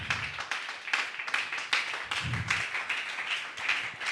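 A church congregation claps together to acclaim the Lord, a dense, steady patter of many hands filling the room at moderate volume, with a few low thumps and no speech over it.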